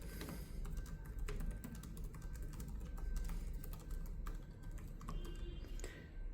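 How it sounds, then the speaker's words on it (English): Rapid, continuous clicking of keys being typed on a Lenovo ThinkPad E14 Gen 7 laptop keyboard, close and fairly quiet, with no voices. "Let me type something on it so you'll see the quality."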